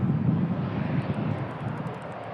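An Aer Lingus propeller aircraft taxis quickly, a close, steady low engine rumble blended with wind noise for a couple of seconds.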